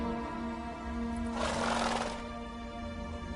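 Horse neighing in The Witcher 3, a single loud whinny rising over a steady low ambient hum.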